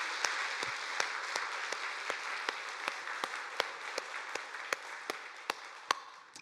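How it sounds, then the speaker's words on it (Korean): A church congregation applauds at a Sunday worship service, a sustained wash of many hands clapping with sharp individual claps standing out, steady and fairly distant throughout. "우리 한번 힘차게 박수 한번 하도록 하겠습니다"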